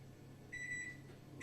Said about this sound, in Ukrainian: Зараз я спробую, можливо, включити мікрохвильовку, забрати трохи потужності в мережі